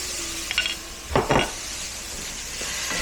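Onions go into a hot pan, giving a soft crackling sizzle with brief clattering bursts from utensils against the pan, steady and fairly quiet throughout.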